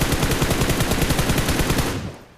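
Rapid automatic gunfire from a battle-royale shooter video game crackles in a loud, fast burst for about two seconds before cutting off abruptly, with no voices over it.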